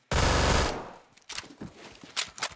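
A Tech Nine in the Phantom Forces video game fires a loud, rapid burst of about half a second. A few scattered shots and light footsteps follow.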